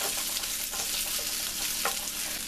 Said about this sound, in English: We want these to get nice and crispy, so we're going to let them cook for a while.